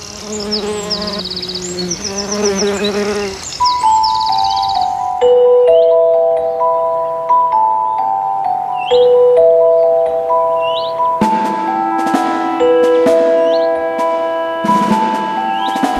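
Wasps from a colony that grows to thousands of larvae and adult wasps by late summer, buzzing close and loud at the start before giving way to a calm melodic music bed.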